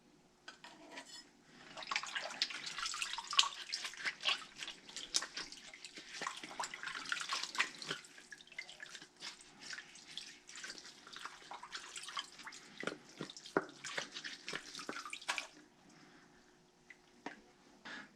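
Water runs from a tap while reusable baking cups are scrubbed by hand in a sink, giving soft continuous splashing with small clinks and rubbing noises, fairly quiet and close.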